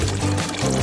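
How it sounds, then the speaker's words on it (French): Water poured over Skittles candies, a short continuous splashing pour that stays steady and fairly loud for under a second, with no voices. "Nous allons remplir des bonbons Skittles avec cette eau."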